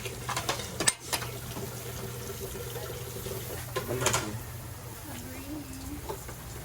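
A pot of shrimp in coconut milk with vegetables simmers with soft, steady bubbling, broken by a few clinks and stirring noises near the start.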